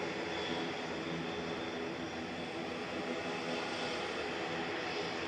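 ATR 72-600 turboprop airliner at Manchester Airport, a steady even engine drone with a broad rushing roar and faint tonal hum, distant and moderately quiet with no change over the short stretch.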